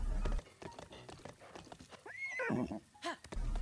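A horse in Breath of the Wild gives a clear, wavering whinny midway through, with hoof clip-clops and game ambience around it.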